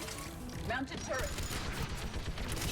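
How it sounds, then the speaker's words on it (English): Mounted turret firing in the Mass Effect 3 video game, a dense continuous burst of rapid gunfire over roughly three seconds, loud and close, mixed with game noise and a voice talking. "Mounted turret."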